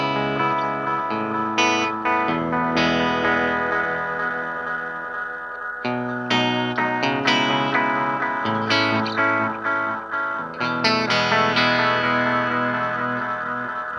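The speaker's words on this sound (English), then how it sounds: "Right, I'm on the analog echo sound. So let's turn it on." A Fender Stratocaster played through a Line 6 DL4 set to analog echo into a Vox AC30 amp: clean picked notes and chords, each trailed by soft repeating echoes that blur into the next phrase.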